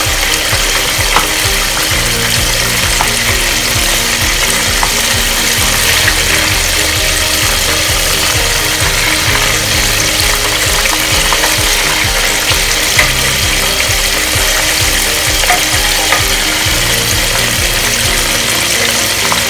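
Chicken broast fries in a pan with a dense, steady sizzle and crackle of hot oil that continues evenly throughout, with a low background hum.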